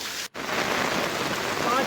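Heavy rain in Chatra, Jharkhand, a dense, continuous hiss of downpour on surfaces, loud and steady apart from one brief dropout near the start.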